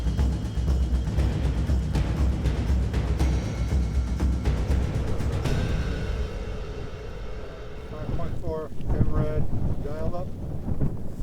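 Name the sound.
wind noise on the microphone outdoors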